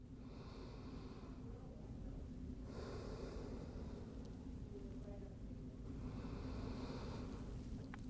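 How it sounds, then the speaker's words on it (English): Slow, deep breaths in and out during a yoga back stretch, each one a soft airy rush lasting a couple of seconds. They are close but gentle, with a steady low background hum and no talk. "Take some deep breaths into the right side of the body"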